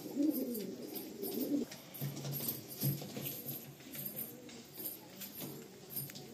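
Long-feathered pattern pigeons from a breeder pair coo at a distance, soft low burbling calls in short bursts over faint background noise.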